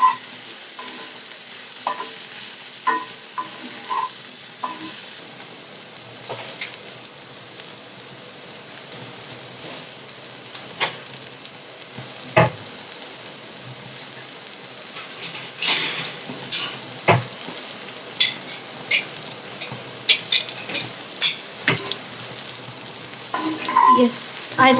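Okra and onions fry in a pan with a soft, continuous sizzle, punctuated by scattered scrapes and knocks of stirring, close and moderately loud with no talk.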